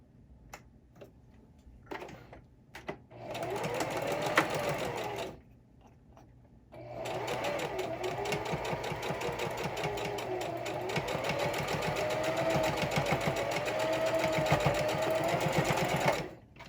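A sewing machine stitches a pleated fabric face mask, running in short bursts at first, pausing, then sewing steadily and evenly for about ten seconds with a close, rapid mechanical chatter.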